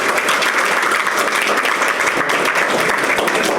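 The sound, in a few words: audience applause at legislative lunch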